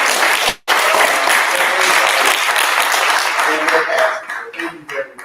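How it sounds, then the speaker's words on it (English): A loud, sustained round of applause from a town hall symposium audience fills the room, dense clapping running almost throughout with a brief gap near the start and faint voices emerging as it tapers at the end. "please just give us one more round of applause for people"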